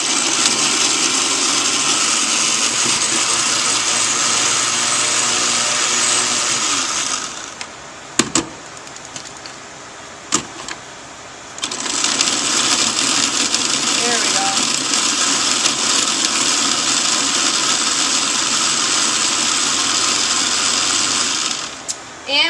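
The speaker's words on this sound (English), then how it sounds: "I have taken the bread that I just ground up in our food processor" Food processor grinding bread into crumbs, a loud steady whirring motor run lasting several seconds, stopping briefly with a few clunks, then running steadily again.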